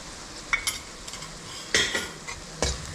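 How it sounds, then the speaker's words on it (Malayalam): Spice powders sautéing in a pan for mutton pickle, a soft sizzle under scattered spoon scrapes and clinks against the pan, close up with no talk. "അതും ചേർത്ത് നന്നായിട്ട് വഴറ്റി കൊടുക്കാം."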